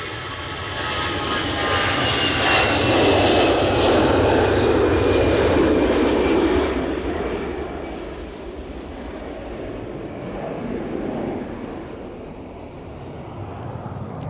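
A DHL cargo plane's jet engines roar loudly close by at Edinburgh Airport during a storm, the broad rumble swelling over the first seconds and then easing into a steady, fading drone under wind noise.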